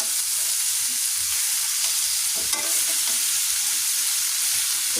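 Raw jackfruit curry is stirred in a hot pan, a constant loud sizzle with scraping stirs heard up close and no speech.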